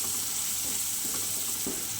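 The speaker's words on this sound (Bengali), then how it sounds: "দেখো পাবদা মাছটা ভেজে নিয়েছি আর উচ্ছেটা ভাজা করছি।" Bitter gourd fries in a pan with a steady, close sizzle and a few soft stirring scrapes across a short stretch, with no talk over it.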